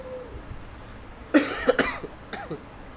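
A person with a cold coughs several times in short bursts, close and fairly loud, with quiet pauses between the coughs.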